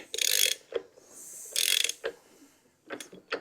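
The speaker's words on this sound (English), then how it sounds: "the way you rotate the motor is you just take your compensator nut and you run it all the way in" A 2004 Harley Softail engine with its spark plugs out is turned over by wrenching the compensator nut, giving intermittent ratcheting clicks and mechanical whirring bursts, fairly quiet and close, with no speech.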